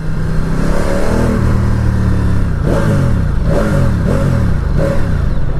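A 2019 Ducati Diavel 1260S with its standard exhaust pipe revs up close by, giving several rising throttle blips in quick succession over a steady idle rumble.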